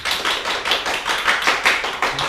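A church audience claps in welcome for a visiting pastor, a dense, steady burst of many hands applauding together, loud and continuous throughout without speech.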